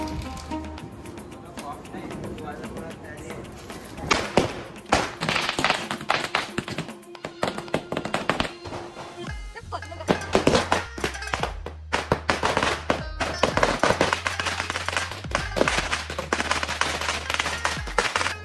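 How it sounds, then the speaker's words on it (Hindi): Diwali firecrackers burst outdoors in loud, irregular cracks and rapid crackling volleys, nearly continuous over the festive noise, with voices and a low droning hum underneath at times. "अभी हम जाएंगे नीचे पटाखे फोड़ेंगे"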